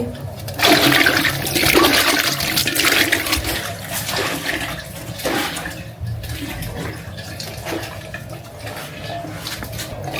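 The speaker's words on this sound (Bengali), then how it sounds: "এদিকে হচ্ছে ধুয়ে নিচ্ছি।" Okra is washed under strongly running water, a loud, continuous splashing rush that stays close and steady for about ten seconds.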